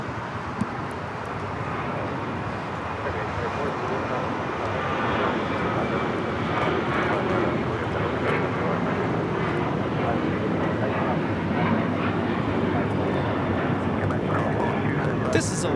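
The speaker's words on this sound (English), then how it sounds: "1430 taking off to Los Cabos on the 737-900ER" Alaska Airlines Boeing 737-900ER jet taking off at LAX on a flight to Los Cabos, a steady, loud broadband engine roar that holds evenly throughout, with faint voices now and then.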